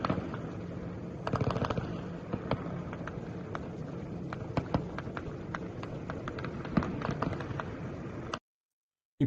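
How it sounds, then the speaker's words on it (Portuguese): Heavy gunfire crackles through the night during a large police operation in the Rio de Janeiro favela complexes, with many distant sharp shots popping irregularly over a steady background rumble, no voices, until it cuts to silence at the end. "Tiroteio enorme isso daqui na madrugada"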